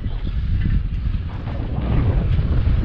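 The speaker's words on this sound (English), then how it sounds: "this time of year, I don't mind the wind at all." Steady outdoor wind buffets the microphone on a warm day, a continuous low rumbling roar with no clear breaks.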